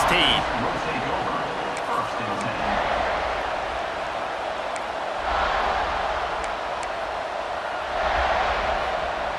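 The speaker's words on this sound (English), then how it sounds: "This crowd ready to make its presence known." Football stadium crowd at a USC versus Miami college game, a steady dense roar filling the whole span with swells near the middle and end, loud and continuous with play-by-play talk faintly over it.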